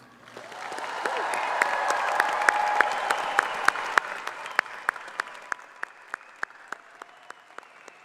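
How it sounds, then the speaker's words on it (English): A crowd at a college commencement ceremony applauds the graduating class steadily, dense clapping that swells and then thins out, with a few louder individual claps standing out near the end. "Everyone, please join me in applauding American Colleges of Education's graduating class of 2025."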